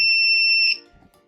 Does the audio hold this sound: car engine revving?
no